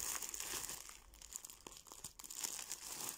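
Plastic parcel bag from an AliExpress order of women's trousers being torn open and handled, close crinkling and tearing rustles in irregular bursts, fairly faint, with no talk.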